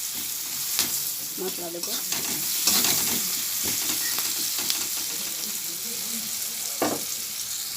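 Onions sizzling in hot oil in a pan for a Bengali dopiaza with okra, pointed gourd and fish, with scraping stirs and clatter throughout; a voice speaks briefly over the frying.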